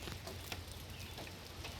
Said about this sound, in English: See where all those small little raindrops hit it?